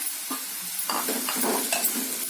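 Onions and a few curry leaves frying in a pan for a Karnataka-style potato and capsicum gravy, with a steady close sizzle and a few soft stirring scrapes, no voices.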